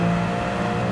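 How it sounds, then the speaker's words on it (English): BMW M3 engine in a racing video game held at full throttle, a steady loud revving drone that stays constant throughout without any talk. "as soon as you can go on the throttle, back on power, full throttle, revving it out"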